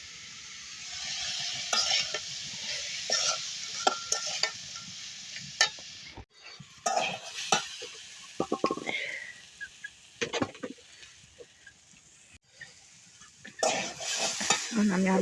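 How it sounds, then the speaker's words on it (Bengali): Potatoes and greens are stir-fried in a pan, with a steady sizzle broken by repeated scraping and clattering spatula strokes against the metal, close and busy, plus brief pauses between bursts of stirring. "ডিমের শাক দিয়া আলু দিয়ে ভাজি করবো"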